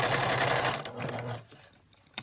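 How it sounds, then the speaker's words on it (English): A sewing machine stitches fabric in a fast, loud, continuous whir for under a second, then stops and leaves only faint room noise. "I'll try to sew fast so you don't have to hold that so long"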